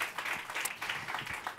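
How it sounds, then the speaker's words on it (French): An audience claps for Miguel in a steady wash of applause lasting under two seconds. The clapping is dense and moderately loud, with no clear talk over it. "On peut applaudir Miguel."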